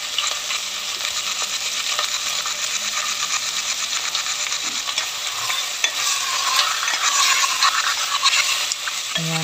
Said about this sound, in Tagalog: Ayan, halu-haluin lang po natin.